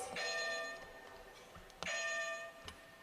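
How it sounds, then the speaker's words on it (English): Team 6A's buzzer in a grade 6 academic quiz bowl sounds twice, a faint electronic tone with a bright ringing quality. Each press lasts under a second, and the two presses are about 1.7 seconds apart. "6A buzzer will sound like this."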